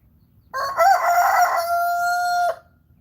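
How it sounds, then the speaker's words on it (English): An Americana rooster crows once, loud and close, a long drawn-out cock-a-doodle-doo lasting about two seconds against a quiet background. "So that rooster is our Americana rooster, and he's been a pretty good rooster."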